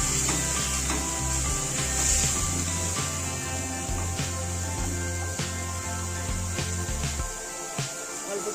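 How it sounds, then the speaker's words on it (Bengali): Spices and salt are stirred together in a hot pan for a rohu fish head and vegetable curry, with a steady close sizzle and the scrape and knock of a spoon against the pan. "মশলাগুলো মিশিয়ে নেব একসঙ্গে।"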